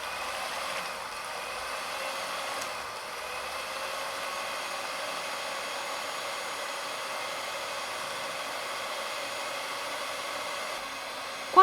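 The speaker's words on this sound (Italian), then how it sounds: "In una ciotola inizio a montare la panna fresca molto fredda dal frigorifero." Very cold fresh cream whipped in a bowl for a honey cake, a steady whirring mixer-like drone holding even for the whole stretch, fairly close and alone with no talking.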